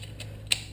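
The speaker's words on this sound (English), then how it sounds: "I'm going to go ahead and torque these bolts down" Torque wrench tightening a brake caliper bolt on a Porsche Cayman 987, a couple of faint ratcheting ticks followed by a single sharp, close click as the set torque is reached.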